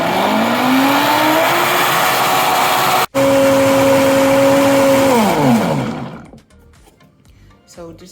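A blender whirs loudly while mixing keto fat bomb ingredients with nut milk, its motor pitch rising then holding steady before cutting off and winding down, followed by quiet clatter.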